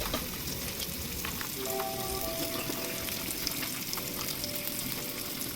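Marinated fish fries in a pan with a continuous, even sizzle and crackle, close and moderately loud, with a faint steady tone running underneath.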